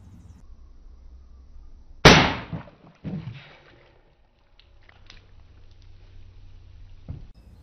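A Umarex Origin .25 caliber air rifle shot hits a water-filled can from a few feet away, a sharp loud crack followed by a brief splashing burst, then quiet handling noises.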